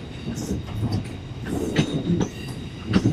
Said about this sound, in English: Departing now is going to be the 10:45 Southwestern Railway service to London Waterloo from here at Portsmouth